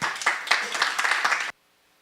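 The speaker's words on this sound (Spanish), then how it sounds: "Pido un fuerte aplauso para ella." A short burst of hand clapping from a small audience at a university law conference, brisk and close, cutting off abruptly into silence after about a second and a half.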